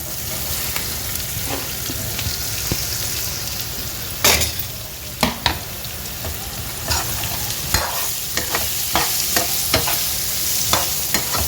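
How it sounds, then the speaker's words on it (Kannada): Curry leaves, green chilies and onion fry in a pan for masala dosa filling, a loud close sizzle with scattered sharp spatula knocks and scrapes as the mix is stirred, no speech. "ಇದು ಹಸಿಮೆಣಸಿನ್ಕಾಯಿ ಮತ್ತು ಈರುಳ್ಳಿ ಒಟ್ಟಿಗೆ ಹಾಕ್ತಾಯಿದ್ದೀನಿ."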